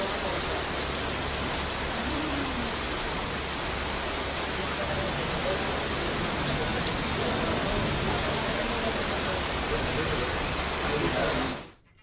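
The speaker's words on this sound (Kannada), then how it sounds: "ಬೆಂಗಳೂರು ಗ್ರಾಮಾಂತರದಲ್ಲೂ ಕೂಡ ಮಳೆ ಆಗಮನ ಆಗಿದೆ" Steady rain falls over Bengaluru's rural outskirts, a dense, even hiss holding without a break for about twelve seconds before cutting off abruptly at the end.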